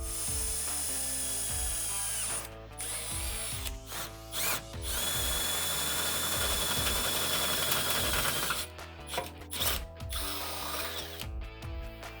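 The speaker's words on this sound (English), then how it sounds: "it's time to drill the holes through the pinch welds for our LEDs" A power drill bores holes through the pinch welds of a vehicle's rocker area while fitting AMP Research PowerStep step bars, with ratcheting, grinding bursts, steady motor whine and short pauses between passes, close and fairly loud.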